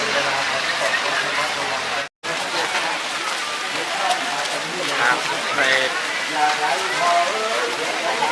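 Steady rain hisses down on surfaces in a dense, continuous wash at a Thai temple, Wat Khao Chong Lom in Si Racha, with a voice talking over it and a brief dropout early on.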